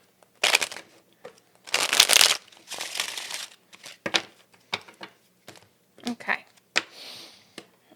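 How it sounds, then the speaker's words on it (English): A deck of tarot cards being shuffled in several short riffling bursts with pauses between, close and crisp, alongside a reader talking. "Let me give it one quick shuffle here."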